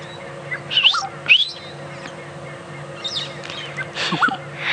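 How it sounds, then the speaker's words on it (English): A brown-headed parrot gives short chirpy cheeps alongside the whistles of a black-headed oriole on an evening safari drive, bright calls arriving in a few bursts over a steady low hum. "It is a brown-headed parrot, and you can just see it cheeping."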